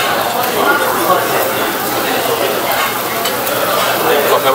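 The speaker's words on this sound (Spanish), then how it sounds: "Ponemos la carne en la barbacoa para que se vaya haciendo." Meat cooking on a Korean barbecue grill gives a loud, steady sizzle and crackle close by, with faint clinks of utensils and people talking over the cooking.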